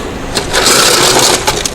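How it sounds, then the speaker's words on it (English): Ice cubes poured into an ice bath container for a cloud and pour point test, a dense crunching, clattering rush that swells loudly through the middle, with a few sharper knocks of cubes striking. "Fill the ice bath container with ice cubes."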